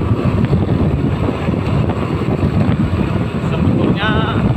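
Heavy wind buffeting and road roar from a Honda Beat FI scooter being ridden at steady speed on a road, loud and continuous, with a faint engine tone underneath.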